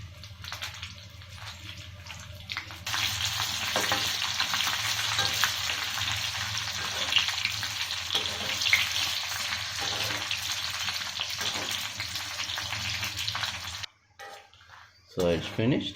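Red chillies dropped into hot ginger oil crackle into a loud, continuous sizzle that swells after a quieter start and runs on steadily, with a voice speaking over it before it cuts off near the end.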